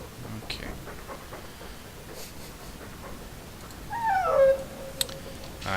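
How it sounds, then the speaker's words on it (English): Cheerful dog barks from the Dragon Age 2 video game, a short rising-and-falling yelp pair near the end over a quiet game backdrop, followed by a faint click. "Happy barks."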